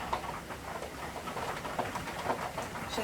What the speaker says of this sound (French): On entend le clapotis de la pluie sur la vitre.